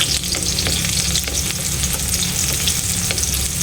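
Squash and crab sautéing in a pan for crab in coconut milk, a steady loud sizzle and crackle running throughout with occasional stirring scrapes and no talk.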